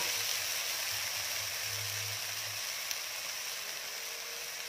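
Tofu frying in a pan over medium heat after a splash of water, giving a steady, close hiss and crackle of sizzling that holds evenly throughout, with no talking.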